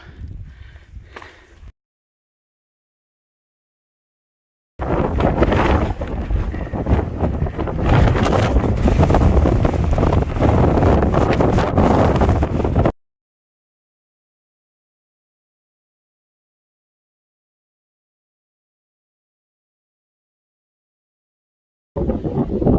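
Strong mountain wind roaring across the microphone in a long loud gust, with brief bursts at the start and end separated by silence.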